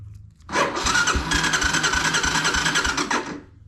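A 1985 Honda Fourtrax 250 ATV turns over on its electric starter and catches, running with a steady, loud, close engine rasp for about three seconds before cutting off.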